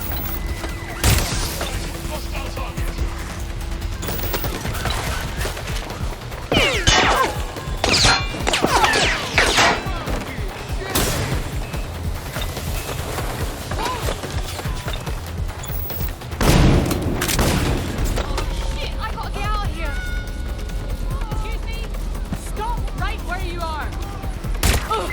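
Dense gunfire and explosions fill a Watch Dogs: Legion battle, with continuous rattling shots, heavy booms and crashes throughout, plus scattered mechanical clanks and faint voices underneath.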